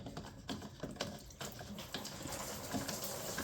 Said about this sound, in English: And all that coolant is going directly onto the alternator.